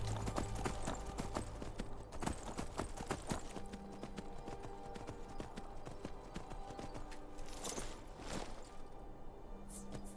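Horse hooves clip-clop steadily and loudly in Skyrim, a dense, continuous run of hoofbeats that carries through the whole stretch with no talking over it.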